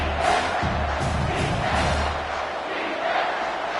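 A packed stadium crowd at a football game roars steadily through the whole stretch, loud and sustained with surging waves of cheering and shouts, on a third-down defensive play.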